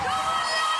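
A crowd cheers and whoops at a concert in a short, dense, steady burst of noise, with no clear speech.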